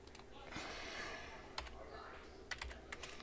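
Quiet typing on a computer keyboard while building a space shuttle model in Tinkercad, with a few soft scattered key clicks and a faint background hiss.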